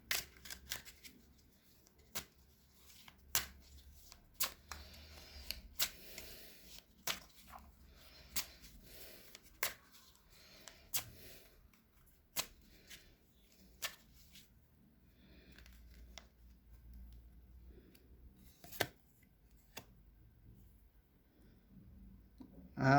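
Playing cards shuffled and drawn for a fortune-style prediction of a Corinthians versus São Paulo football match, a quiet run of crisp, separate card snaps and riffles recurring every second or so, close and alone.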